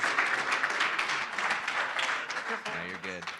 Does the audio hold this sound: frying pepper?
no